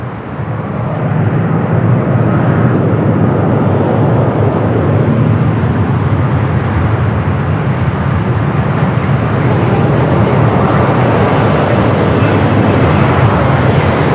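A Delta airliner at LAX roars past loud and close, a sustained broad engine rumble holding steady for the whole stretch with faint background noise.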